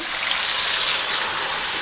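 A cup of water poured into a pan of pork fat while making lard at home, producing a steady, loud rushing splash that fills the short moment without pause.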